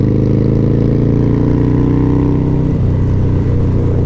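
A Harley-Davidson Fat Boy motorcycle accelerates on the Barber Motorsports Park racetrack, its loud, close V-twin engine droning steadily, then shifting pitch near the end as the revs change.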